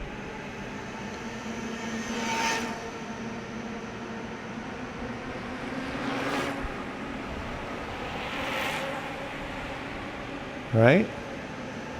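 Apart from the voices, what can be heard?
Bafang M600 e-bike motor running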